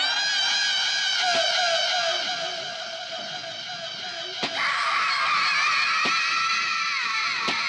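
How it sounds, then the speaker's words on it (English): Echoing, reverberant screams from the 1968 horror film Night of the Living Dead, a woman's high shrill cries that are sustained and fairly loud and carry over a dense tonal film soundtrack, with a few sharp hits cutting through. "Ah, these echoey screams."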